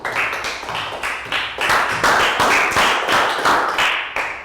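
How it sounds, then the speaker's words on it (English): Applause and clapping from a class of young students for a classmate who solved a division problem, a steady burst of many hands lasting several seconds, loud and close, with no talking over it. "High five and a round of applause for Pak Bung."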